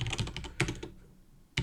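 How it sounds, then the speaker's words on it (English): Rapid clicks of fingers typing on a computer keyboard, several bursts of keystrokes separated by short pauses, close and fairly quiet with no talking. "I cannot type today"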